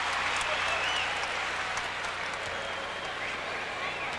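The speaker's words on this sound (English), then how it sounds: "So Pax goes out, gets a nice round of applause from this sold-out crowd." Sustained applause from a sold-out crowd at a 1993 Orlando Magic at Chicago Bulls basketball game, with a dense, steady wash of clapping and crowd noise filling the arena throughout.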